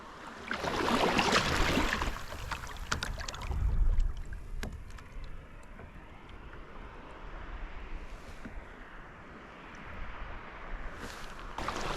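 Whitewater kayak moving through the water from a standstill as one full sweep stroke is taken, with splashing and water rush loudest at the start, then a softer steady wash with wind noise on the microphone.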